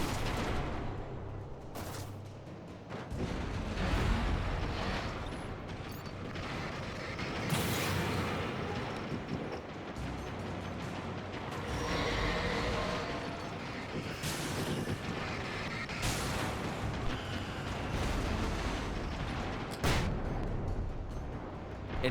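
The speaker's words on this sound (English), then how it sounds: "the flashbang knows to explode the second it touches an enemy made out of darkness" A flashbang explodes in the Alan Wake Remastered video game. Loud, dense booming bursts and crackling blasts repeat throughout, with layered game effects that never let up.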